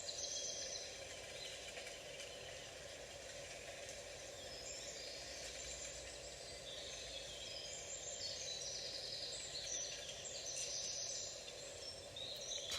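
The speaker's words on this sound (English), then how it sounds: "Listening to the birds, enjoying that stillness." Birds chirp and sing outdoors in a calm, still setting, their faint high calls scattered over a low steady background hum.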